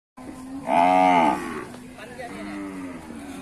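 A cow at a northern Thai cattle market lets out one loud, drawn-out moo, followed by quieter lowing and market background.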